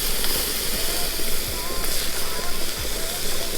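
Jetboil HalfGen base camp stove burner hissing steadily while cooking, a continuous broadband roar at close range with faint low rumbles and no talk over it.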